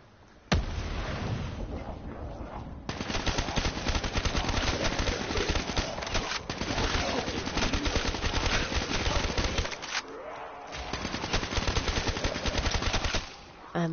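Rapid automatic gunfire in a zombie video game rattles on almost without break for several seconds, loud and dense, with short gaps, under occasional talk.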